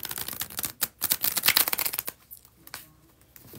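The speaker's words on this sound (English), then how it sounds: "that is the bridge shuffle." Tarot cards riffled in a bridge shuffle, a dense crackling flutter of cards close by, then a softer settling rustle as the deck is squared, with no voice.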